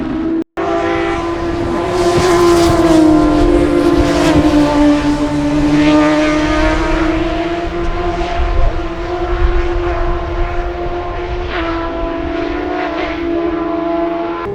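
A race car engine screams loudly at close range on the final lap at Cadwell Park, its pitch rising and falling through gear changes and corners, with a brief cut near the start and no talking.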